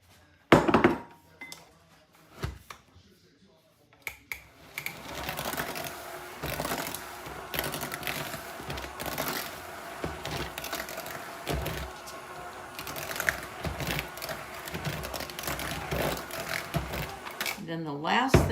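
Old-fashioned oats are mixed into a thick peanut butter chocolate chip oatmeal cookie dough: a few hard knocks, then a steady, busy churning and clattering that keeps going close by.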